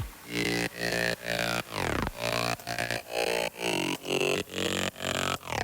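Synth bass with its bandpass filter switched off, in an electronic track: loud, full-bodied notes pulse in a steady rhythm of roughly one per half second, one sweeping down in pitch, with no voices.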